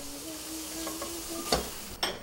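A father stir-frying fried rice in a pan for breakfast: a soft, steady sizzle with a few scraping stirs and light clinks near the end, close by and fairly quiet.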